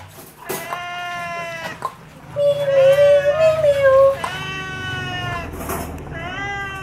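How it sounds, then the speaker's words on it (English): A cat meows repeatedly, a string of clear, drawn-out meows up close, with one longer, louder yowl in the middle. "Meow? Meow, meow, meow, meow."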